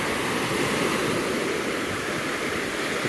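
Waves on a lake worked up by a west and north wind roll in as a steady, loud, unbroken wash of water with no gaps and no voices.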